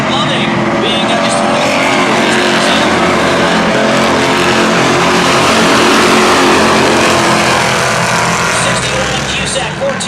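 Stock race cars in a Beech Ridge Sport Series heat roar around the short track in a steady, loud wall of engine noise, with a race announcer talking over it throughout.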